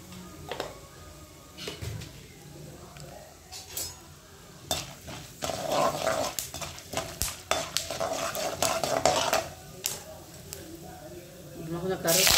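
Chana dal and peanuts tumble into a hot oiled pan and are stirred, giving scraping, rattling spoon strokes over a soft sizzle, with someone talking over it.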